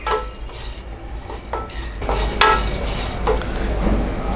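Lentils roast in a pan on low heat while a spoon or spatula repeatedly scrapes and clinks against the metal, the hits fairly close and uneven over a soft background sizzle, with no voices.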